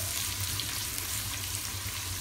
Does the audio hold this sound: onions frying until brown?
yes